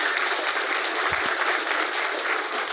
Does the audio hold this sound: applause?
yes